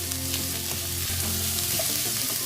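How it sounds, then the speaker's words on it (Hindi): Ginger and garlic sauté in a pan for chicken fried rice, making a continuous close sizzle with light stirring and occasional clinks, no voices. "हाफ टी स्पून इसमें जाएगा अदरक और 1 टीस्पून जाएगा इसमें लहसुन। बस हल्का सा सौते करेंगे।"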